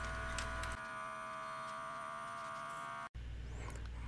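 An Epson L1800 inkjet printer runs after its carriage cable is replaced, giving a steady whir with light ticks and clicks, a brief pause, then mechanical chatter resuming close by.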